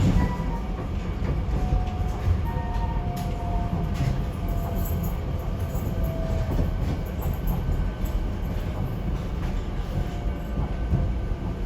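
SEPTA passenger train on the ride from Philadelphia to Doylestown rolling into a siding, a steady heavy rumble of wheels on rail with faint squeals and clicks heard from inside the car.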